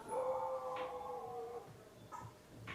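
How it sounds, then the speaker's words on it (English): A dog howls at an evening music gathering, one long wavering howl that fades out, followed by a few faint yips, heard alone and fairly quiet. "Even the dog agrees."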